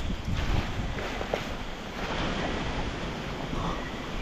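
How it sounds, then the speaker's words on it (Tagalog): Strong wind roars continuously into the microphone at a river, a loud broadband rush with surges, sounding like gusts over open water. "Ang kalakas ng hangin."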